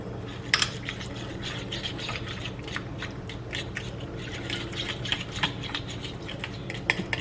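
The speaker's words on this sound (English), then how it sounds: "We're just going to mix that up" Pumpkin donut batter being mixed in a bowl, with a spoon or whisk clinking and scraping against the sides in quick, irregular taps over a soft, steady background hum.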